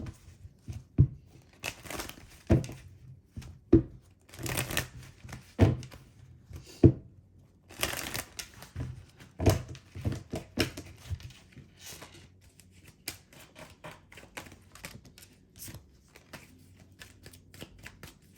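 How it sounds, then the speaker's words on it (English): Tarot cards are shuffled and riffled in a series of quick papery bursts and soft taps, with pauses between, close up and quiet. "So we're just going to go ahead and do a quick shuffle."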